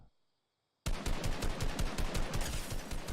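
Rapid automatic gunfire in the video game Fortnite bursts in suddenly after near silence, a continuous loud rattle of shots that keeps going to the end.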